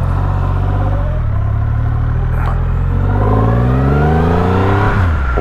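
Loud, close engine of a Triumph Rocket motorcycle accelerating hard, its rising revs climbing smoothly through gear changes, no talking.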